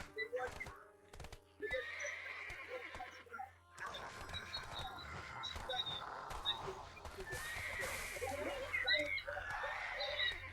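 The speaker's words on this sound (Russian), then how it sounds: "Лошадки." Horses neighing and whinnying in the online video game Black Desert, with hooves clopping and game ambience around them, faint and distant, while someone talks intermittently.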